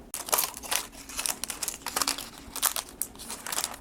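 Plastic shrink-wrap is peeled carefully off a vintage tarot deck, with close, crisp crinkling and crackling in irregular bursts throughout and no talking.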